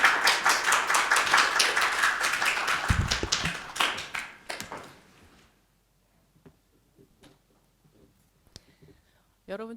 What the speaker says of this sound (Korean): 목사님 나오실 때 박수로 인사하겠습니다